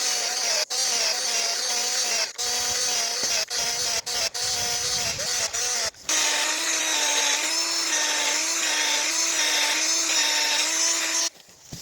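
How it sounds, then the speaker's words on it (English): A drill bores a tap hole into a maple tree, a steady high whine close by, briefly interrupted by several stops early on and then running continuously at a slightly different pitch before cutting off. "Now once you have it drilled"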